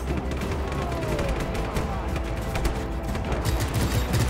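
Sustained gunfire from Just Cause 3 gameplay, dense bursts and booms layered continuously and loudly across the whole stretch, with a voice faintly present underneath.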